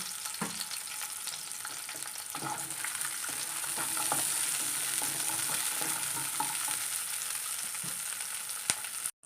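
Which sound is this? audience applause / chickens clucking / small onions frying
small onions frying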